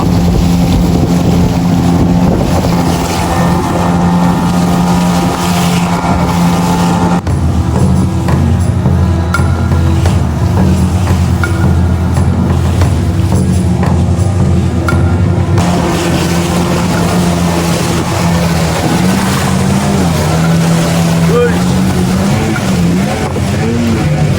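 A boat pushes through large river rapids during a sudden surge in water flow, with loud, continuous rushing water and a steady engine roar that run unbroken throughout, close and dominant.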